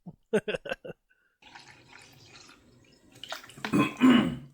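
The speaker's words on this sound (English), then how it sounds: "Some nice, fresh, crispy water in that G-Fuel cup." Fresh water pours into a G-Fuel shaker cup, a close splashing gush that builds toward the end after a few brief knocks and a quieter stretch.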